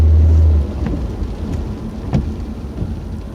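Steady rain and road noise inside a car driving in wet weather, a continuous broadband wash with a loud low rumble at the start, then an even hiss with faint splashes.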